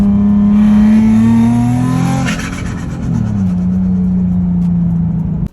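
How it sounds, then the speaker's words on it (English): A loud, steady Nissan 350Z turbocharged VQ engine drone that swells as it revs, with a rising whoosh and chirp of a turbo spooling, then settling back to a constant roar. "I love the turbo sounds it makes."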